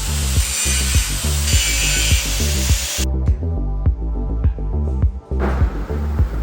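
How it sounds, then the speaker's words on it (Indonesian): A hand grinder works the cover and root surfaces of a weld test piece clamped in a vise. Its whine is loud and close, rising and dropping in rhythmic strokes, with brief pauses as the disc leaves the metal. "Gerinda permukaan cover dan root secara searah."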